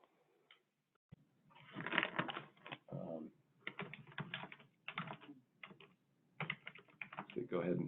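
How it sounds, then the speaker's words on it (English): Bursts of fast clicking keystrokes on a computer keyboard, close and uneven, separated by brief pauses. "I'll type in that answer as well."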